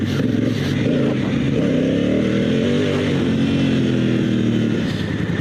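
Motorcycle fitted with Continental TKC70 dual sport tires pulling out of a parking lot, a steady close engine drone that rises and falls slightly in pitch as it rides, heard from the rider's position, no speech.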